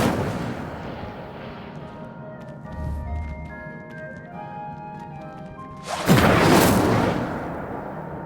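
Incendio fire spell cast in Hogwarts Legacy, a sudden loud whooshing burst of flame that erupts after a stretch of game ambience and tonal effects, then tails off gradually.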